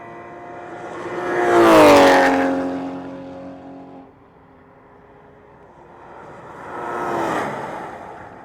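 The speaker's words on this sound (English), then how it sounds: "The cars are going to be coming screaming down through here at over 130 miles an hour" Race cars scream down the straightaway toward turn 17 at Sebring at over 130 mph, one loud high-pitched engine sweeping past with a falling pitch, then a quieter second car approaching and passing a few seconds later.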